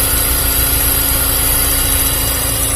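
A rebuilt Honda Civic Genio engine idles steadily once warmed up, producing a loud, constant hum with a fixed low drone and a thin whine running throughout and no variation in revs.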